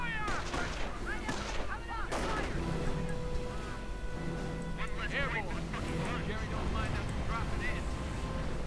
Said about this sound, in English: And that Nebelwerfer just continues firing.